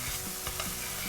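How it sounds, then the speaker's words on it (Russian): Tomato paste fries with onions in a pan, a steady close sizzle broken by several quick scraping strokes of a spoon stirring, with no voices. "Активно перемешиваю, слежу, чтобы томатная паста не подгорала"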